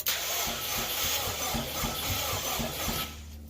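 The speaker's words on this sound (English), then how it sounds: "She cranks, boys. She cranks." A Subaru WRX engine in a BRAT build cranks over on the starter, a close, loud, rhythmic chugging of roughly six even turns that stops without catching.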